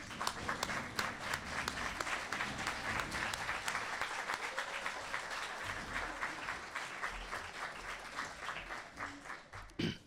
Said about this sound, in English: let's give our friends and family a round of applause